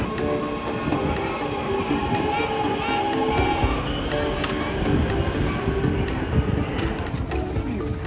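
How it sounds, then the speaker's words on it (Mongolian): A new Los Angeles metro train rumbles past with a steady, loud rolling roar and faint wheel clatter, continuous throughout. "Шинэ метро гадна талаасаа юм байна."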